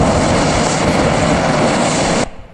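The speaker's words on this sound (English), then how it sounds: "This is just burning parts of the propellant in the open air" Propellant for a homemade rocket engine burns in the open air with a loud, steady, broadband roar that holds for over two seconds, then cuts off abruptly into quieter background.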